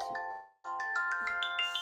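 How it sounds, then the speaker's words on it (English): A mobile phone ringtone plays a short, bright, chiming melody, briefly cutting out and then resuming, sounding close to the listener. "Turn off the phone."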